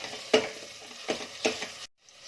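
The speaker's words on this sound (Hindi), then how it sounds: "ये डाल देंगे और इन्हें भी अच्छे से भूनेंगे ताकि ये हल्का ब्राउन हो जाए" Crushed ginger and garlic fry in a pan, with a few stirring scrapes and bursts of sizzle that drop briefly to silence near the end.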